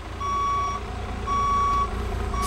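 A Class B truck emits repeated high reversing beeps, long evenly spaced tones over a low engine rumble, as it backs up around cones during a CDL skills maneuver.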